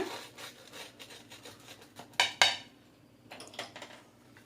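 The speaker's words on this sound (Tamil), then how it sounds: "இப்போ நம்மளோட பிரெட் சாண்ட்விச்சை கட் பண்ணி காட்டுறேன் பாருங்க" A knife saws through a crisp toasted Mumbai-style masala sandwich, with soft scraping and crunching strokes, a couple of sharper crackles near the middle, and lighter rubbing afterward, close and fairly quiet, with no speech.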